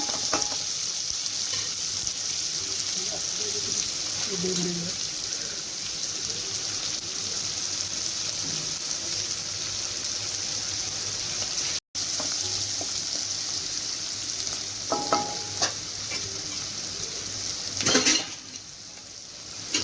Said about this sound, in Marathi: त्याच्यानंतर मी कांदा टाकणार आहे। कांदा परतून घेणार आहे।